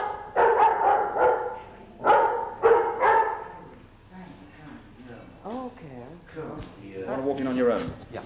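Several dogs bark in loud, close bursts, then yip and whine more softly while a person talks over them.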